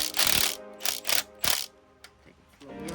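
A ratchet wrench clicks in several quick bursts, loud and close, as it undoes a 15 mm nut on an LS3 V8 engine, then a few fainter metallic clicks and handling noises follow.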